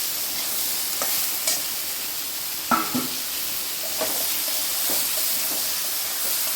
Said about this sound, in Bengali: ঝিঙেটা একটু নেড়ে ঢাকা দিয়ে দেবো আমি, জলটা বেরোতে থাকুক।